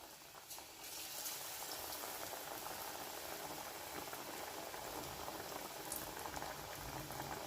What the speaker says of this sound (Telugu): దీన్ని మీడియం ఫ్లేమ్లోనే ఫ్రై చేసుకోవాలండి.